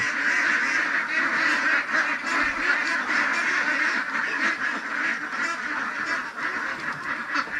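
A flock of farm ducks from a first-batch laying flock quacks continuously, many overlapping nasal calls close by and loud, with no pause in the chorus.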